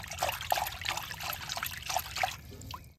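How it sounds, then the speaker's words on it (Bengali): Turmeric powder and half a spoon of salt being stirred into water in a bowl, giving a steady close-up sloshing, trickling swirl of liquid with small clinks of the spoon throughout. "এবারে এইভাবে ভালো করে একটু মিশিয়ে নেব জলের সঙ্গে।"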